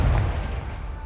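Confringo fire spell exploding in Hogwarts Legacy, one loud, close, deep booming burst whose rumble rolls on and slowly fades, heard on its own.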